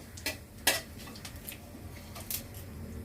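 Dried chilli, bay leaf and black cumin stirred in a pan, with a few sharp metallic clinks and scrapes of a spoon against the pan over a soft background, quiet and close.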